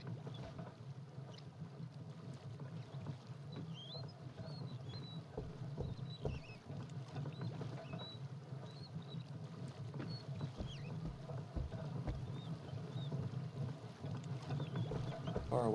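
A mill wheel turns in water in the video game The Vale: Shadow of the Crown, giving a steady, moderately distant watery churn with soft rhythmic patter and faint chirps above it.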